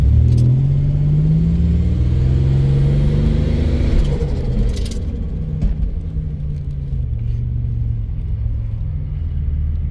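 A 1987 Buick Regal T-Type turbo engine given light throttle, a deep rumbling rev that swells and eases back to a steady low idle, close and loud with no talking.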